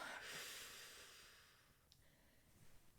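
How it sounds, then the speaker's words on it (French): A storyteller takes a single slow, deep breath, a faint airy rush of inhaled and exhaled air heard close and quiet, with no talking. "Grande respiration."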